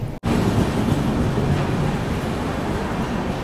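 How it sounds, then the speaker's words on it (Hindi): A Mahabodhi Express train overtaking on the adjacent track beside a halted Dhanbad–Jammu Garib Rath Express, a loud, continuous rumbling roar of passing coaches after a brief cut at the start, with no talk. "इस जर्नी का एक और ओवरटेक महाबोधि एक्सप्रेस से"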